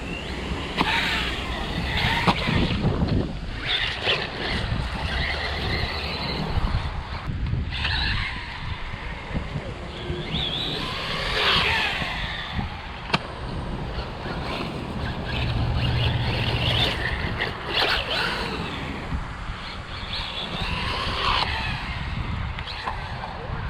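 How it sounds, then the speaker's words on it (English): Strong wind at an outdoor skatepark buffets the microphone in loud, continuous rumbling gusts, with brief faint voices at times. "the wind is whipping"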